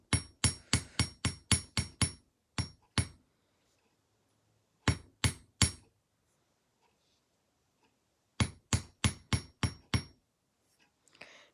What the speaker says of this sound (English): Now we shall go ahead and hammer this round thing too